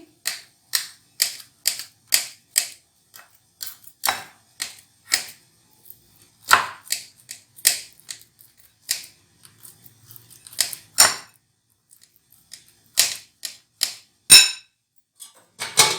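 Peeled bananas being cut into small pieces, a brisk series of sharp close clicks and taps of the blade on a hard surface, irregular bursts separated by short pauses.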